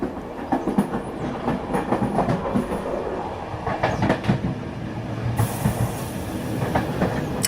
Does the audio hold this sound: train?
yes